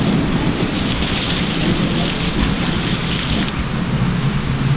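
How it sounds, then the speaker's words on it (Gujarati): Heavy rain pours down over a village street in Gujarat, with thunder rolling in the mix: a loud, dense, continuous roar of rainfall with low rumbling underneath and no voices. "એટલો વરસાદ આવે એટલો વરસાદ આવે"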